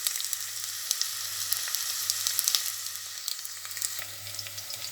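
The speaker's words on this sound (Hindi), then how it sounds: "अब हम मसाला भूनेंगे।" Masala sizzles steadily in a hot pan while cooking aloo lobia (potato and black-eyed pea curry), with a continuous close frying hiss, a low hum underneath and occasional sharper crackles.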